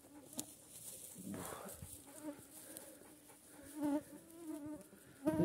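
Mosquitoes and midges buzzing in the summer taiga: a thin, high whining drone close around the listener, with louder buzzes swelling and passing near, plus a few faint rustles.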